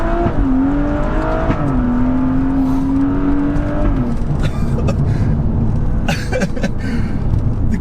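A stage 2 tuned BMW M135i with 440 bhp accelerates on the road, its engine note climbing and settling through the gears. The engine is loud and steady from inside the car, with a whirring drone and no talking.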